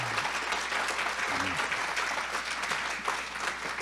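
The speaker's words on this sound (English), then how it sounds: "So we could clap it up one more time for LaVita." Sustained applause from the audience at a Martin Luther King Jr. birthday breakfast tribute: a dense, steady wash of clapping that fills the whole stretch, with a brief voice near the start.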